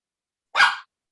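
A single loud, close dog bark from a female dog indoors during an online summit meeting, one sharp burst standing alone without talk.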